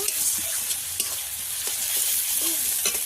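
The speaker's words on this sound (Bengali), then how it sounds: "ফোড়নে তেজপাতা জিরে দিয়ে দেবো, পেঁয়াজ কুচি দিয়ে দেবো" Chopped onion fries with bay leaf and cumin in a tempering for a desi chicken curry, a close, continuous sizzle with occasional light stirring scrapes.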